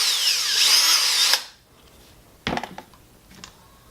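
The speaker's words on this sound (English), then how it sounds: "And this also is a hammer drill" A Hercules 20V cordless hammer drill whines loudly at high speed for over a second, then stops; a few light clicks and taps follow.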